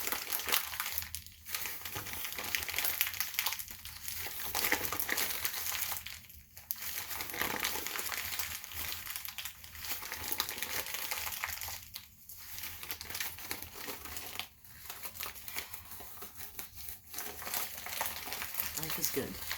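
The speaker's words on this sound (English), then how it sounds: "It's an old flyer that I use for fragile stuff. But I figured just no harm in crinkling it." An old paper flyer being crinkled and crumpled close to the microphone, soft continuous crackling in waves with brief quieter gaps, low in level.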